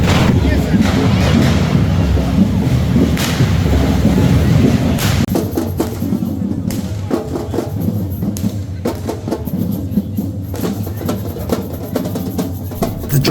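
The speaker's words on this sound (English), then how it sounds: "The drummers set the tempo for the parade" Drummers leading the Correfoc fire run parade in Barcelona, a loud dense street din of pounding drums and crowd noise filling the whole stretch.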